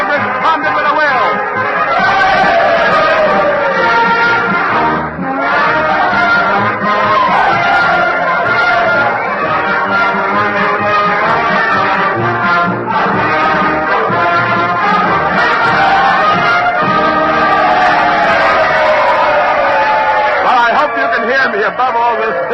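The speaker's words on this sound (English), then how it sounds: "Mr. Lincoln has asked the Union band to play the Confederate song, and they've responded with a will." A Union military band plays the Confederate song "Dixie" in a dense, sustained wash of brass and drums, mixed with loud crowd hubbub and cheering throughout.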